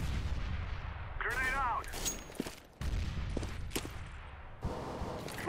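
Counter-Strike: Global Offensive gunfire cracks in quick bursts and single shots over a rumbling game backdrop, with a brief voice sounding partway through.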